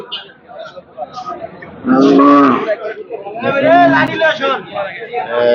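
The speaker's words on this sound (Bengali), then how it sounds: "সুখচান ব্যাপারীর কাছ থেকে গরু ক্রয় করেছে" Cattle at the Gabtoli cattle market in Dhaka, gathered for Qurbani, give several loud, drawn-out moos close by, over steady crowd chatter and the hubbub of the busy livestock market.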